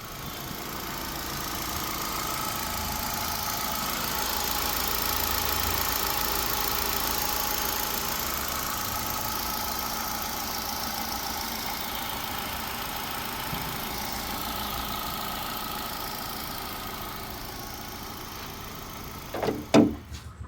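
A 2012 Hyundai i10 automatic with a petrol engine idles steadily and quietly for about twenty seconds, a smooth low hum recorded close, ending with a couple of brief clicks.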